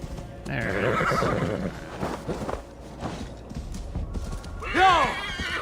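A horse in the video game Assassin's Creed Valhalla lets out a loud whinny, then a second shorter neigh near the end, with clip-clopping hooves and faint game background in between.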